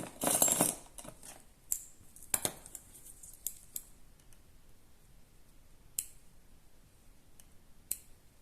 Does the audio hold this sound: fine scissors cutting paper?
yes